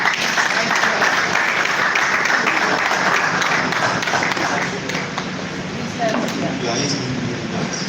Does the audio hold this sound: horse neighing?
no